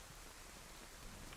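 Rain pours down in the survival game DayZ, a dense, continuous hiss of drops that stays quiet and even throughout.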